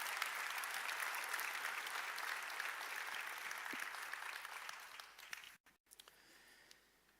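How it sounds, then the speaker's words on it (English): Audience applause at a Stellenbosch University law and military science graduation ceremony, sustained dense clapping from a large crowd in a hall that fades out near the end. "Let's give them another round of applause."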